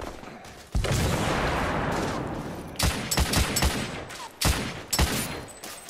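Gunfire in The Order: 1886, a Victorian-era shooter, with a sustained burst of rapid automatic fire at the start, then several separate loud shot clusters spaced apart, close and harsh.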